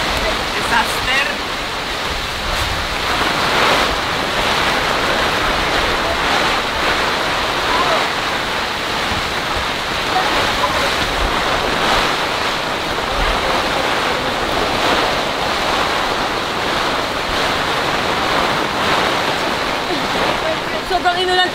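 Strong typhoon wind and heavy rain battering a tent, a continuous loud roaring wash with gusting surges and wind buffeting the microphone.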